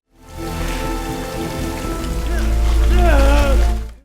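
Heavy rain pours steadily onto slick debris in the ruins of collapsed apartments at a sinkhole in South Korea, a dense, constant hiss that swells slightly under sustained musical tones.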